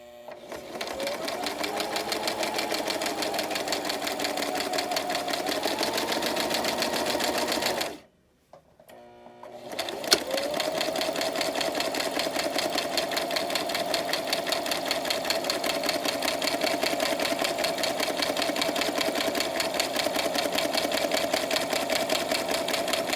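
A sewing machine stitches a shirt in a steady rapid whirring hum with a clear mechanical chatter, stopping for about two seconds partway through before resuming at the same pace.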